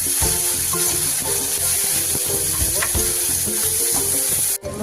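Black mustard seeds and a bay leaf sizzle loudly in hot oil, a dense close crackle running throughout with rhythmic stirring and a brief pause at the end.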